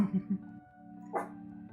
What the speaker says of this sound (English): see, the dog's getting excited